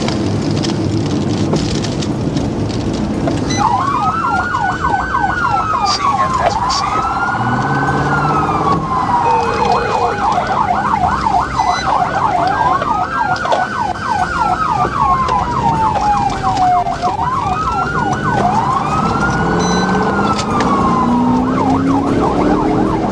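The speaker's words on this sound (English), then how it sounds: "Sirens blared, no compliance." A police car siren wails in repeating rising and falling sweeps during a high-speed chase, loud and close, over a steady rumble of road and engine noise with no voices.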